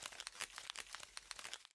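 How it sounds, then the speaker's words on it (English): Paper crumples and crinkles in quick, dense crackles, a close, dry texture of sharp rustling bursts used as a noise sample for a granular synth. "putting, like, paper crumpling or just really any kind of, like, noise sample like that into a granular synth is a really cool way to create some background texture"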